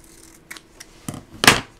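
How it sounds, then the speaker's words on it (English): Scissors trim a length of ribbon in a craft setting, three or four quick close snips over about two seconds, the last one sharpest and loudest. "now I'm going to use my scissors and just trim"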